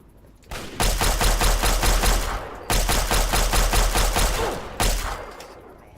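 A laser pistol in Fallout 3 fires in two long runs of rapid, evenly spaced shots. The shots are loud and close, with a short pause between the runs and a quiet tail after.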